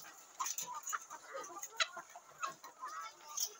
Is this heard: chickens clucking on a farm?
yes